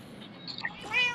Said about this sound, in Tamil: இன்னொரு பூனை